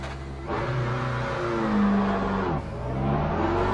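GT race cars from the Le Mans Ultimate racing game sweeping past with a steady engine roar that swells and fades as each car goes by, continuous and fairly close, with no talk.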